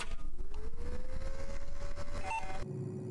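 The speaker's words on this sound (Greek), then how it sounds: "Νομίζω έχω λίγο παλιό κομπιούτερ με αυτόν τον ήχο που ακούστηκε." Old computer starting up in the Internet Cafe Simulator video game: a steady whirring hum with a slowly rising electronic tone, a brief beep, then an abrupt drop in noise near the end, with no voices.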